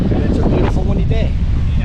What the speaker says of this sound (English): it's a beautiful windy day